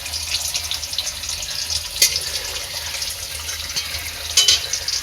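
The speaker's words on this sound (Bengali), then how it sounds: "এখন মা মাংস ধুচ্ছে।" A kitchen tap runs steadily as meat is washed under it, a continuous close splash with a couple of brief louder splashes where the flow strikes the meat or basin.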